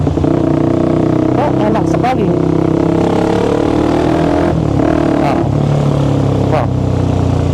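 A Kawasaki Ninja RR Mono single-cylinder motorcycle engine revs hard toward high RPM while riding, loud and close with rising and falling pitch, under intermittent talking.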